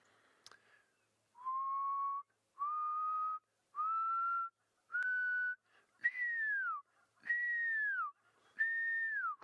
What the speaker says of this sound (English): the pearl-spotted owl has got a beautiful call